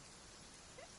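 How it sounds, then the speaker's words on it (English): Steady rainfall in Genshin Impact, a soft even patter filling the moment, faint and unbroken. "It's raining."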